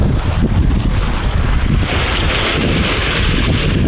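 Strong wind buffets the microphone over the continuous rush of sea waves on an incoming tide, a loud, dense wash of noise with no talking.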